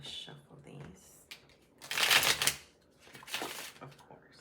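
Tarot cards being shuffled close by in a few quick riffling bursts, crisp flicking sounds with a faint voice in the background.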